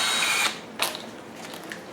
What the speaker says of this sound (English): We're going to drill a 9/64 drill hole right through here